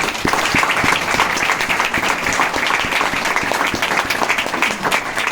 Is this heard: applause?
yes